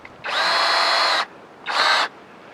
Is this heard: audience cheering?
no